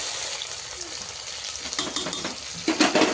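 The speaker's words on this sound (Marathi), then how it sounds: "आता ह्याच्यामध्ये आपण टोमॅटो ॲड करून घेऊया परतत राहायचं" Tomatoes sauté with onions in a pan for mutton pulao biryani, a bright continuous sizzle that grows busier with stirring and scraping toward the end, heard up close.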